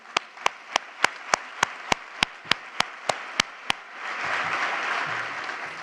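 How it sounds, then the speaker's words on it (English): At a city State of the City event, a crowd starts with slow, evenly spaced single claps that build into a broad, sustained wash of applause. "We can clap."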